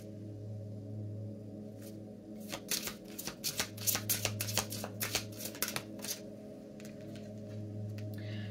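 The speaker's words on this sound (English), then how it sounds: "before I started shuffling the deck" A deck of cards is shuffled close up in a quiet room, a burst of rapid riffling clicks lasting several seconds, with near silence on either side.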